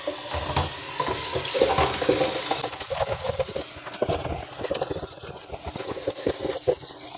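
Water runs from a tap into a sink, splashing unevenly at first and then in choppier bursts as something is rinsed under it.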